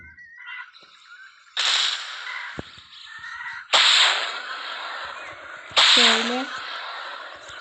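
Rockets fire in the Dude Theft Wars video game: three sharp, loud launch blasts arrive about two seconds apart, each trailing off into a hissing decay.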